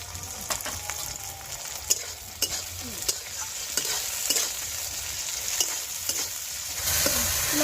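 Chopped tomato sizzling in a hot pan for a cauliflower and silver carp fish curry, with a spoon scraping and stirring in irregular knocks over a steady fry.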